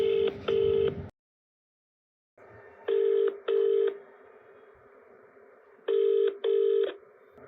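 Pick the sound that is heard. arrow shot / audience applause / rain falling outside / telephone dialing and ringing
telephone dialing and ringing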